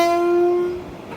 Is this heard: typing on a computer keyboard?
no